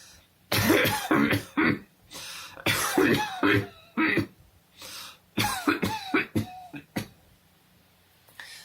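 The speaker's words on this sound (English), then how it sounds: "How long have you had that cough?" A string of harsh, bursty coughs and throat-clearing sounds, close and loud, coming in irregular clusters with short pauses between them.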